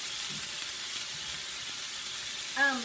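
Chicken sizzles steadily on an indoor grill pan over a stove burner, a constant close frying hiss, with a brief voice near the end.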